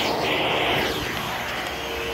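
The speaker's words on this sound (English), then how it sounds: "Nice powerful suction one for this unit. Nice pleasant sounding motor, it's not loud." Aerus Lux Legacy vacuum cleaner motor running as a steady, close, smooth whooshing drone with a slight airy hiss, continuous and without speech.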